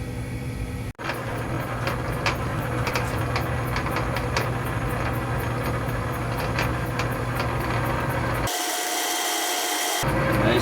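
A metal lathe turns at slow speed with plenty of oil while plunge-cutting a shop-made gear-cutting hob for Atlas 618 change gears, giving a steady machining drone with faint scraping ticks and a brief louder burst near the end.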